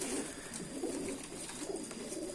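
Pigeons cooing in a loft of high-flying birds, soft low repeated coos mixed with general bird chatter and steady background noise, no voices.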